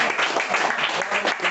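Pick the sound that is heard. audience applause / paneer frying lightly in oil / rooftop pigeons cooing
audience applause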